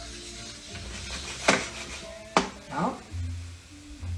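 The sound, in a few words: onions cooking and sizzling in a pan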